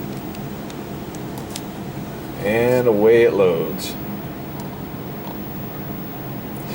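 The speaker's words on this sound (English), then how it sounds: "What you're hearing there is just my coin meter counting up." An arcade machine's coin meter counts up as a short mechanical whirring burst, heard briefly under a steady room hum while someone talks nearby.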